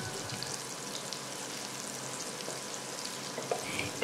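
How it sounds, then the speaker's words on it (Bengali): Bitter gourd frying in a pan for a mustard-paste potato curry, a steady dense sizzle of hot oil throughout with faint occasional stirring scrapes, close and continuous. "উচ্ছেটা আমার ভাজা হয়ে গেছে"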